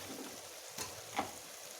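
Potatoes go into a hot pan of frying peas and get stirred, giving a steady soft sizzle with two faint scraping stir strokes, quiet and close, with no voices.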